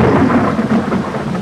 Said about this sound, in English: Now we have a storm outside our window